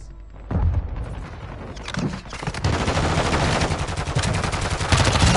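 Heavy video game gunfire rattles in dense automatic bursts after a brief quieter start, loud and sustained with booming impacts in a chaotic multiplayer battle.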